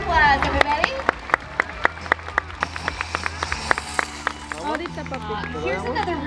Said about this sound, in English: Let's give them a good round of applause, everybody.